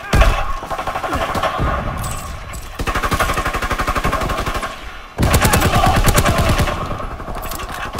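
Rapid automatic gunfire from Call of Duty WW2 on PS4, BAR and handgun fire in long loud bursts of evenly spaced shots with short pauses between, close and dense.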